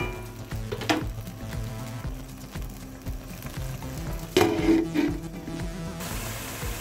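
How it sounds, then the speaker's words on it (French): Tomato, onion and chili cooking in a covered pan: a steady, close sizzle with a constant frying hiss, a few brief louder crackles and clatters, and no voices. "Je vais couvrir et laisser cuire environ 5 minutes."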